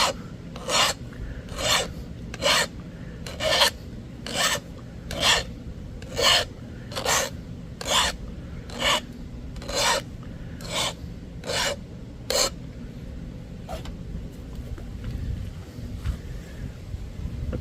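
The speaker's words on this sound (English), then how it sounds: "Sharpen up our tool." A flintknapping tool is sharpened with a file in about fourteen even, close rasping strokes at a quick steady rhythm. The strokes stop near the end and leave quiet background.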